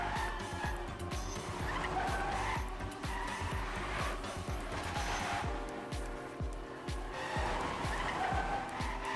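Race cars in the Trackmania video game driving through a custom track block, with engines whining and tires repeatedly squealing and skidding in a continuous, loud stream of rapid engine pulses.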